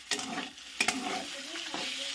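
Bitter gourd fries and is stirred in a pan, with a soft sizzle under brief scraping strokes of a utensil, close by and without speech.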